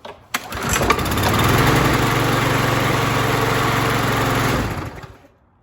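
A 2011 Craftsman lawn mower engine fitted with a 20-inch MTD blade starts with a quick pull and runs at a steady, loud buzz for several seconds before winding down and stopping.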